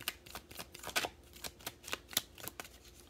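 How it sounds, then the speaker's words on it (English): A deck of tarot cards being shuffled by hand, a quick, irregular run of crisp riffling flicks and soft slaps, close and fairly quiet, with no voices. "I keep feeling the need to shuffle"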